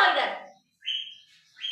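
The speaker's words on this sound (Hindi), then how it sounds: "आसिफ कबूतर डर गए, ये डर गए" Pigeons and parrots kept as pets call in short bursts: a rough, noisy squawk at the start, then two shrill, sustained chirps with brief gaps between them, close and fairly loud.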